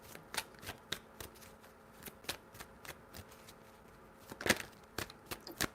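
Tarot cards being shuffled in a series of quick riffling bursts, close and crisp, with short pauses between shuffles and a louder flurry near the end.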